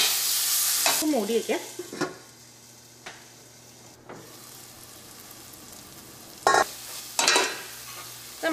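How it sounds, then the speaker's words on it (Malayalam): Tomatoes with salt stirred in a pan over a medium flame for a spicy cabbage masala, a spoon scraping in short busy strokes near the start, then a soft steady sizzle with occasional clinks and scrapes. "ഇത് നന്നായിട്ട് മിക്സ് ചെയ്തിട്ട് നമുക്കൊരു മീഡിയം ഫ്ലെയിമിലിട്ടിട്ട് നേരം നമുക്ക് തക്കാളി ഒന്ന് വേവിക്കാം"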